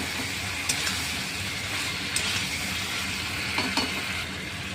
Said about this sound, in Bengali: অল্প পরিমাণ ধনিয়ার গুঁড়ো ঝটপট ভালো করে একটু নেড়ে নিতে হবে কষিয়ে নিতে হবে